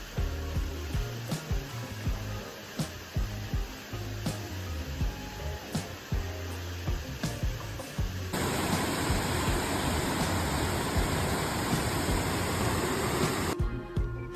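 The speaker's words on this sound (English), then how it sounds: "I like to go for a hike and enjoy the waterfalls of the Catskill Mountains" Waterfall in the Catskill Mountains, a steady broadband rush of falling water, close and continuous, growing denser and louder partway through, with no voices.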